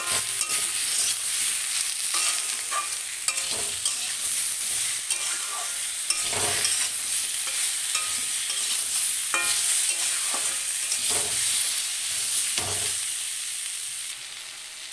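Spices with turmeric and salt stir-fried in a pan for a vegetarian spinach and bori curry, giving a steady bright sizzle throughout with repeated scraping and clinks of the spatula against the pan, close and continuous, with no one talking.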